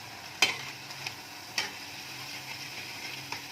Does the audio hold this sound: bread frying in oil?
yes